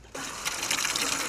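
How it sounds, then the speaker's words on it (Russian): Water gushes steadily from a neighbours' well as it is drawn up, a close, continuous rushing splash that starts abruptly and keeps running, with no voices. "Воду теперь они набирают из колодца соседей."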